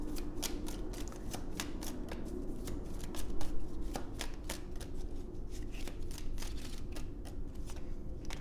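Oracle cards are shuffled by hand in a quick, continuous riffle of crisp paper flicks, close and fairly soft, lasting several seconds with no talking.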